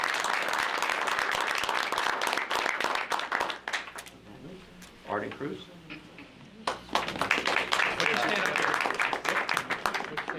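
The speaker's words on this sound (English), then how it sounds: "let's give them a round of applause on that." At a borough council meeting, the room gives an undefeated youth team a round of applause, brisk clapping that fades into a short spoken name, then picks up again with more claps and cheers.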